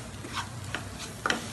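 Spoon stirring coriander powder as it fries in a pan for Kerala-style mutton curry, giving soft scraping strokes over a low sizzle, close and quiet, with one sharper scrape near the end.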